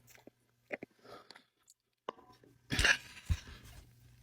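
Someone close by chews fries from a soul food truck in Lakeville, Massachusetts, with scattered soft bites and mouth sounds followed by a louder crunchy burst.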